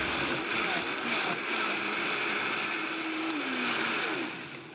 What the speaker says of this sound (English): Pop that in the blender.